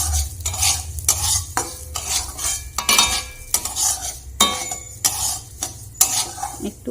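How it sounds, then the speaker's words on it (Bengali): Moong dal frying in oil in a pan while a spoon stirs and scrapes it, giving repeated sharp metallic scrapes and clinks over a steady low sizzle, with no talk. "মুগ ডালটাকে একটু ভালো করে ভেজে জল ঢেলে সেদ্ধ করে নেবো"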